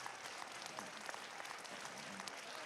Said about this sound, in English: Applause, standing applause, well deserved.